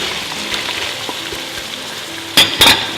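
Chocolate zucchini fries in olive oil in a pan with a continuous bright sizzle, broken near the end by two short, louder clattering bursts, as if the pan or utensil is moved.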